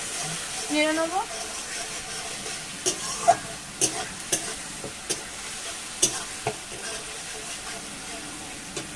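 Spice paste fries in a pan while being stirred, a soft sizzle under a series of distinct spoon scrapes and taps against the metal; a voice is faintly present early on.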